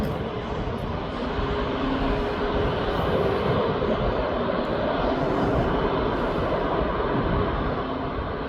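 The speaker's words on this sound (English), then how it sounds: "That Tui is now on the runway ready to go." TUI Boeing 737 Max 8 jet on the runway at East Midlands Airport, a steady broadband engine roar holding at a constant loud level throughout, with no voices.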